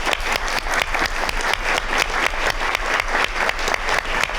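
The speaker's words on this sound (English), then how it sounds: "Final round of applause to our beautiful panel today" Audience applause for a women-in-business panel at a college masterclass, loud, sustained clapping from a sizeable crowd with a steady, dense rhythm and no talk over it.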